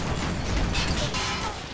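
Explosions and gunfire rattle in the war video game MOWA2, a dense run of booms and bursts piling together loudly for a couple of seconds.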